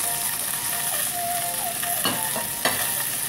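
Fish frying in oil in a covered pan, a continuous loud hiss and crackle with scattered pops and a faint clink near the end.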